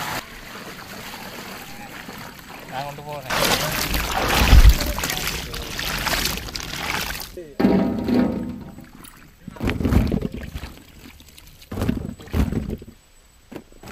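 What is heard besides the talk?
water being poured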